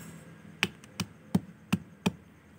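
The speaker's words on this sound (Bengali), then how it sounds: "আমি গুঁড়ো করে দেব, তাই গুঁড়ো করছি।" Soaked shells are crushed into powder for garden fertilizer, making five sharp, evenly spaced pounding knocks close by against a quiet background, with no voices.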